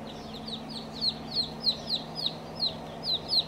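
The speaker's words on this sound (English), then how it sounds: "pure Americanas. Blue egg layers. All female pullets." Newly hatched pure Americana baby chicks, all female pullets, peep in a rapid string of high, downward-slurred cheeps, close and clear over a low background hum.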